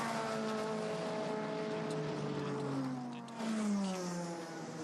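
A Ford Mustang and a McLaren race car on a Brazil circuit during a six-hour race drone past, engine notes gliding down in pitch as one closes on the other, steady and fairly loud.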